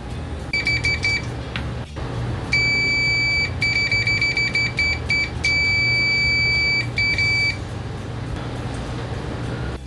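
Shrill electronic continuity beeps from a cheap talking multimeter, repeated in short and longer bursts over a steady low hum, fairly loud and with no speech.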